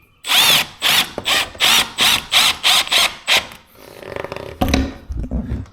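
Power drill driving screws into wooden window trim on a holiday home build: a loud, close series of about nine short whirring bursts in a steady rhythm, followed by quieter handling and a final burst.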